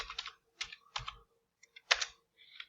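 Keys on a computer keyboard are tapped in short, close clusters of clicks separated by brief pauses, with no talking.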